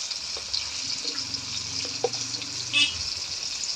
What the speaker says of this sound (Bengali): মশলা একটু ভাজা ভাজা করে নেব